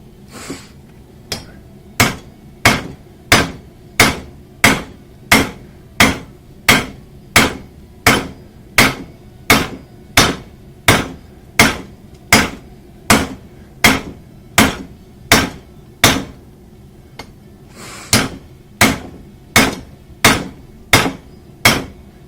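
Heavy hammer blows strike hot metal at a home forge in a steady, ringing rhythm, about one per second, loud and close, with a short pause partway through.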